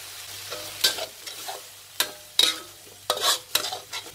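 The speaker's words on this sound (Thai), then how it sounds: "เดี๋ยวเราจะผัดพริกแกงเราให้หอมค่ะ" Green curry paste stir-fried in coconut cream over medium heat for green curry with fish balls, sizzling steadily while a spatula scrapes the pan in sharp, repeated strokes, close and fairly loud, with no voices.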